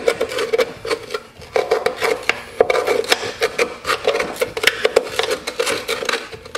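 A tapered 3/8-inch wooden dowel scrapes heavy carbon buildup from a Lawn Boy engine during a rebuild, producing quick rhythmic rasping strokes close to the microphone.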